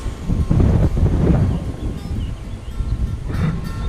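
Strong gusts of wind blow over open ground near a village with a wind farm above, roaring and buffeting the microphone, rising and easing in surges, with some rustling and no talk.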